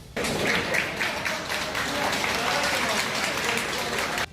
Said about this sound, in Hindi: उन्होंने ताली बजाकर भी उन्हें विदाई दी